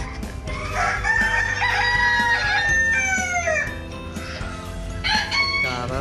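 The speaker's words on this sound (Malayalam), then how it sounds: "ഇത് ഇവിടെ മത്സരത്തിന് കൊണ്ടുവന്ന കോഴികളാണ്." Competition roosters and hens at an agricultural show in Finn Valley, Ireland, crow loudly at close range over steady clucking, with several overlapping calls throughout.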